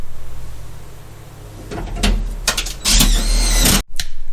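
Sheet-metal hammering on a Chevy Nova floor pan patch panel, a quiet stretch giving way to a series of loud metallic knocks and bangs, close by, with no talking.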